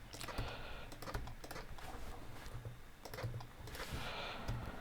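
Quick, uneven keystrokes on a PC computer keyboard while DNS server addresses are typed in, steady close clicking for the whole stretch with no voices.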